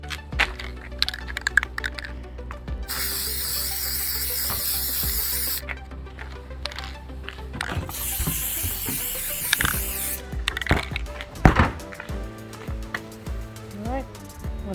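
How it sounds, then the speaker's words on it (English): Silicone conformal coating sprayed from an aerosol can onto a taped-up circuit board outdoors, heard as two long, loud hissing bursts with faint handling clicks and background sounds between them. "I'm going to be using this silicone conformal coating"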